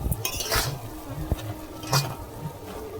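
Tomato pickle in sugar syrup bubbling in a pan, with soft simmering pops and a few scraping clinks of a spoon against the metal, quiet and close.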